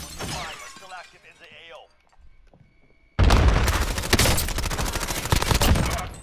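Gunfire in a shooter video game bursts in loudly after a quiet stretch of talk and faint effects, a dense run of rapid cracking shots that continues to the end of the clip.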